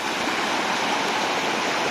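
Rushing floodwater from the Mun River in Thailand roars over a village road in a steady, loud, broad wash, like a fast flooding torrent pouring past close by.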